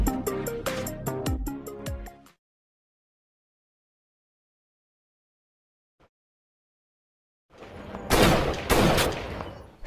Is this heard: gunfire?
yes